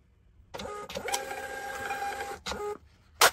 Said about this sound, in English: I'll print a couple of test prints